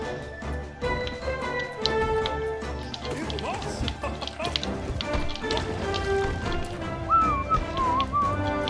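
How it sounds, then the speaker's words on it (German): A man whistles a wandering melody over video game music from Hollow Knight, with steady tapping and background sounds beneath the pitched whistle. "Sorry, ich sollte nicht pfeifen."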